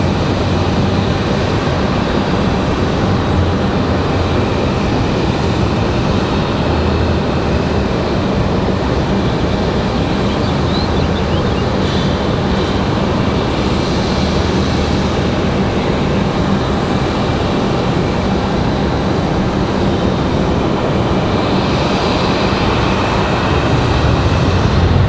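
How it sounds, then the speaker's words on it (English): A Frontier Airbus A321 departs Raleigh-Durham airport, its engines giving a loud, steady, broadband roar that fills the whole stretch with no break and no voices over it. "Frontier 2072 headed back to Philadelphia on an A321. gonna be our next departure here."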